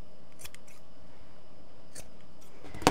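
Scissors snipping the seam allowance of a sewn fabric coat near its corner, a few sparse, quiet cuts spread out before a louder rustle of handling at the end.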